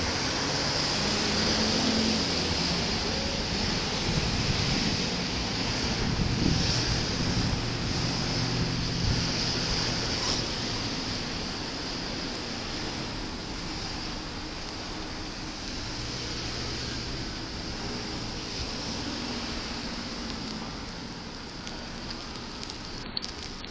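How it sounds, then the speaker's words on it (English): Steady rain falling on a city street at an outdoor vigil, a continuous even hiss over the full length with faint low traffic or crowd rumble beneath, no distinct speech. "Boy, the rain looks like it's coming for a long time."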